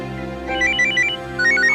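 A phone rings with a repeating electronic ringtone, two bursts of high chiming tones over a steady hum.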